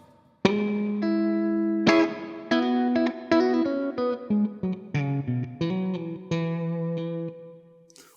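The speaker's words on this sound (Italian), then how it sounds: "Possiamo passare da combinazioni di single coil tipo questa" An EKO electric guitar on its single-coil pickups plays a run of clean plucked notes and chords, each ringing out bright and sustained before the next, close and alone with no talking.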